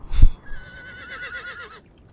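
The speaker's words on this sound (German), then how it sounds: "Aber jetzt hört man mehr Pferdegeflüster." A horse whinnies in the Empire Total War strategy game, one wavering, drawn-out neigh after a short thump, fairly close and alone.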